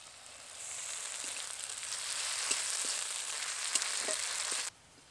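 Onion with ginger and green chili paste fries in a pan for a shrimp and flat bean curry, giving a steady, close hiss with faint pops and taps before stopping abruptly.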